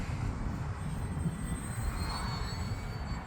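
Arrows Bearcat RC model airplane flying downwind on a windy day, its engine a steady, fairly loud drone with faint high whine, heavy wind rumble throughout and no talk.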